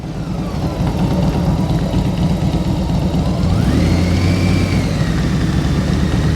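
Motorcycle engine during slow-speed riding practice, a steady near idle with a low throbbing rumble that rises slightly in pitch partway through as the throttle is held up.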